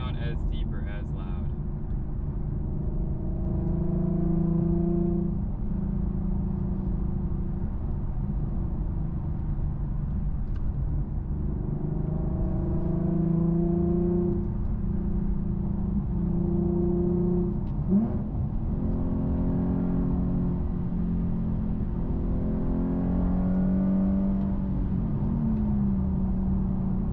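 Infiniti Q50 with a loud custom exhaust revving: a steady deep engine drone that rises and falls in pitch through repeated revs for nearly half a minute, loud and close, with someone talking over it throughout.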